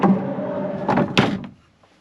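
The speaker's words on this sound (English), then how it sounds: "Even the bedroom door is private and it slides." An old wooden bedroom door built from 18th-century wood slides on its track inside an overland rig, a short rolling scrape followed by a couple of dull knocks as it stops, close and clear.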